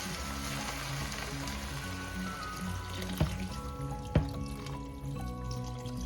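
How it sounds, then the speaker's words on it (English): Water poured into a pot of pork for sour stew, a soft sizzling trickle and fill sound over a steady background hiss, with a couple of brief clunks partway through. "Add some water, just enough to cover the meat"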